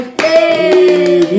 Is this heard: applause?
yes